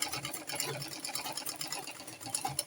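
A sewing machine back stitches a curved seam on an A-line dress with a smocked waist, a close, rapid mechanical whir with a fast pulsing rhythm for a few seconds.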